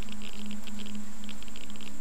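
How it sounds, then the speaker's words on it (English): Rain falling outside in the video game Empyrion, a steady soft patter with light ticking droplets over a low hum, no talk. "Looks like it's raining outside."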